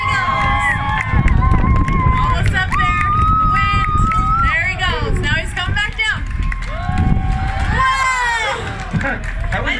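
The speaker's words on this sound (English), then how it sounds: "Come on, guys, cheer them on!" A crowd at a lumberjack competition cheers and shouts without a break, loud and close, with overlapping excited voices and some clapping amid the din.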